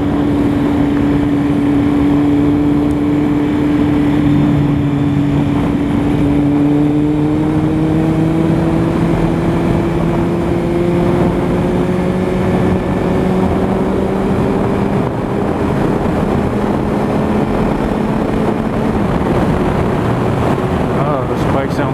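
A 2008 Kawasaki Z1000 motorcycle fitted with a Danmoto Carbon GP exhaust, heard while riding: a loud, steady engine drone whose pitch slowly rises through the run, with wind rush throughout.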